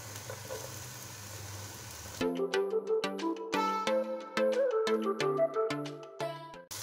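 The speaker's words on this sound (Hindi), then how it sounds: "हल्का सा फ्राई करेंगे" Carrots and capsicum fry lightly in a pan for chicken chow mein, giving a steady sizzle for about two seconds before music takes over.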